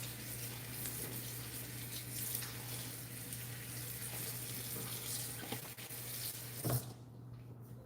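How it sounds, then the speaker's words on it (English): Water running from a kitchen tap into a pot of green unripe plantains, a soft continuous splashing stream under a low steady hum, stopping abruptly near the end. "So I'll just add some water in here."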